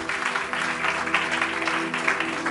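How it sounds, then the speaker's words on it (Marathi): A church congregation claps together in loud, sustained applause, a dense wash of hand claps filling the room with no pause. "जरा जोरदार टाळ्या प्रभूच्या गौरवासाठी."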